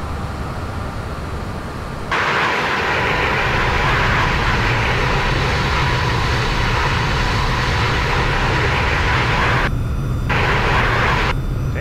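Airbus A320 engines heard from outside the aircraft in X-Plane 11 with the BSS sound pack: a loud, continuous jet roar that swells after two seconds, then cuts out twice briefly near the end.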